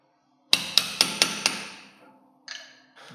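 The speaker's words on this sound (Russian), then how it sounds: "С помощью зубила и молоточка мы его сдвигаем." Hammer striking a chisel to knock a cap off a car brake drum: five sharp, ringing metallic blows in quick even succession, close and loud, followed by a couple of lighter metallic clinks.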